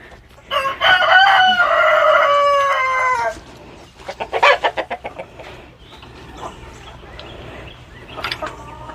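Chickens in a backyard coop at afternoon feeding time: a loud, drawn-out rooster crow up close, followed by a run of sharp clucks and then quieter scattered clucking.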